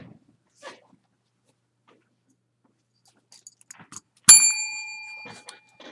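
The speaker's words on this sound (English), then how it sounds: "That was me going over to my table to grab my bell." A desk bell struck once in a math classroom, one sharp bright ding ringing out and decaying over about a second, preceded by soft footsteps and shuffling.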